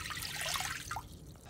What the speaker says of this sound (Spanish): Puse una olla, ahí voy a agregarle las 2 tazas de agua